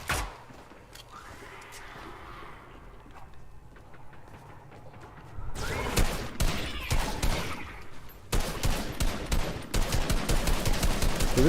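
Assault rifle fire in a video game: quiet rustling and scattered sounds at first, then sudden loud automatic bursts that resume after a short pause and continue in rapid, close volleys.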